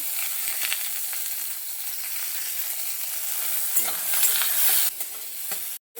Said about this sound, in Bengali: হালকা হাতে খুন্দি দিয়ে নেড়ে ছেড়ে দিয়ে দেব